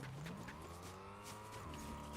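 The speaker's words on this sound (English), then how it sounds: "I hear a car." A car drives nearby in the battle royale game Fortnite, a faint steady engine hum with rising and falling pitch and light tire noise, no voices over it.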